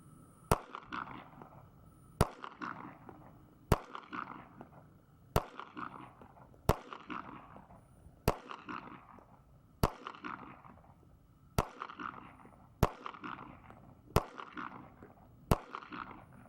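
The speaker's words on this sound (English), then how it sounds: "First shots ever for me with a .40 cal Sig Sauer P320" Eleven sharp gunshots from a .40 caliber Sig Sauer P320 pistol, fired singly at a steady pace of roughly one every 1.5 seconds, each a loud crack followed by a short ringing decay, with no talking.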